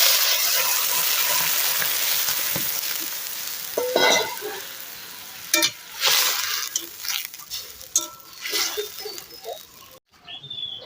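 A frying vegetable curry with green chili and sajna stems, potato, eggplant and bori sizzles loudly, then warm water poured in breaks the hiss into bubbling, clattering stirs and scattered pops.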